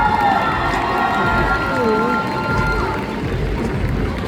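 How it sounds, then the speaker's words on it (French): Crowd cheering and applauding a cosplay contest prize winner at the Japan Tours Festival, with shouts and whistles over continuous clapping in a large hall. "On peut l'applaudir encore une fois."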